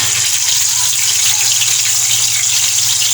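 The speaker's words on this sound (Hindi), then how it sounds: "ठीक है, ऑयल मैंने गरम कर लिया है। ये देखिए ऑयल गरम है। इसमें अब मैं फ़िश डालूँगी।" Fish fries in hot oil over a low flame, giving a steady, dense, hissing sizzle that stays close and even throughout with no voices.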